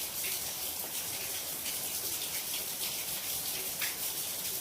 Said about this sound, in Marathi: काय पावसाचं पाणी पळायला लागलं म्हणलं